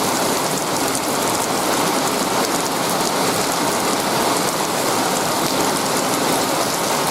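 Steady morning rain shower falling on surfaces outdoors, a constant dense hiss of drops with no pauses, moderately loud and unbroken throughout.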